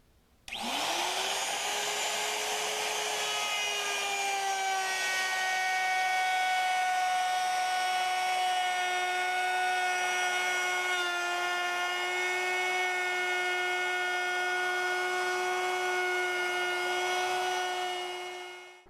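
A wood router fitted with a dado bit spins up and cuts wood against a fence, a loud steady high-pitched whine with a strong motor tone that holds for about eighteen seconds, rising after a brief start.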